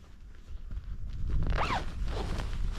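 A sleeping bag zip is pulled up at a cold bivvy camp on Bow Fell, a quiet, close, rasping slide that lasts about a second over faint outdoor background noise.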